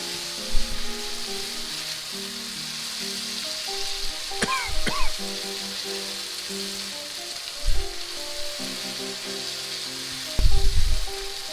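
Sambal sizzles and crackles steadily in a pan, with a few louder scraping stirs and clacks of a utensil against the pan; no one talks.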